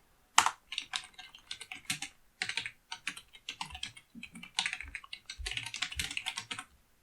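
Someone types on a computer keyboard in quick irregular bursts of close, crisp keystrokes with brief pauses, and nobody speaks.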